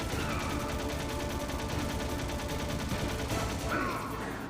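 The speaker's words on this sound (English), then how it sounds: "How many fucking machine gun bullets can you take?" Machine gun fire in the Metal Gear Solid video game rattles on continuously in dense, loud rapid bursts, with heavy impacts layered over the sustained barrage.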